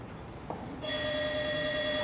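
A telephone rings with a sustained electronic bell tone that starts after a short quiet moment and continues steadily, fairly close and clear, with no talk over it.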